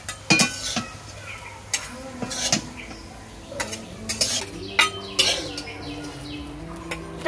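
Fried pumpkin flower fritters lifted from a pan in a village kitchen, with a series of sharp metal-on-metal scrapes and clinks of a utensil against the cookware, irregular and close, plus a faint bird chirping in the background.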